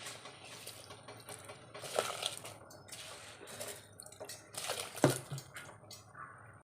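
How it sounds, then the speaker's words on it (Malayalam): Washed rice is tipped into a pot of boiling water, giving a soft watery churn and splashing with a couple of sharper wet plops, close and fairly quiet, with no voices. "നമുക്ക് അരി ഇട്ട് കൊടുക്കാം"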